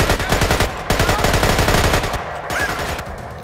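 Rapid AK rifle bursts in Splinter Cell: Conviction, a dense run of loud, close shots in quick clusters filling the first two and a half seconds, then thinning toward the end.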